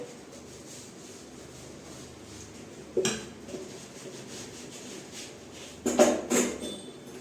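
Grated paneer is mixed in a bowl while making paratha filling, giving two short bursts of spoon clinking and scraping against the dish over a quiet room hiss.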